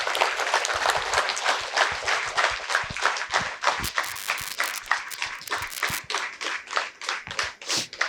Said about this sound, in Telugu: సో వారిని సాదరంగా మన చప్పట్లతో వేదిక మీదకి ఆహ్వానించుకుందాము.